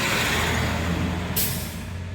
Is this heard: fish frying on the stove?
no